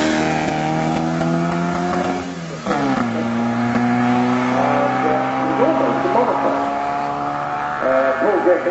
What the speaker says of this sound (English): On the hill at the moment, we've got Paul Gething with the Rochdale Olympic